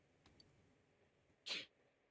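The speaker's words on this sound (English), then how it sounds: "You sneezed." A single short sneeze from a character in the video game Persona 4 Golden, bursting out alone over a quiet, faintly hissing background.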